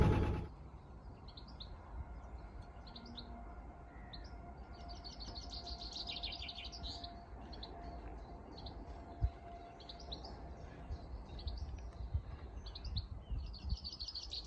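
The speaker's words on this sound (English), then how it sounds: "all you can hear is the sounds of the birds" Small birds chirp and trill beside a canal, with repeated bright song phrases at moderate distance over a low steady rumble, likely a narrowboat engine, and no talking.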